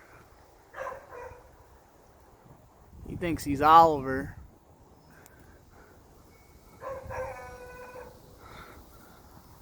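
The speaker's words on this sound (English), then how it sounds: "Hound dog over there." A hound dog outdoors gives a loud, rising howl followed by a shorter howling bark, with someone speaking briefly between the calls.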